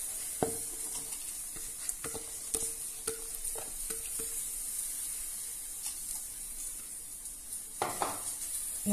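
Soaked, washed parboiled rice is stirred into boiling water with coconut milk and turmeric for a rustic biryani, with a faint sizzle and bubbling beneath a series of sharp spoon scrapes and clinks against the pot.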